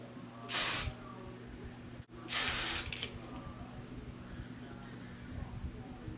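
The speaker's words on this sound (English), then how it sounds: "Just gonna spray some of these baby hairs back." Two short hissing bursts of hairspray close by, sprayed onto hair, separated by a brief pause, with quiet room noise between them.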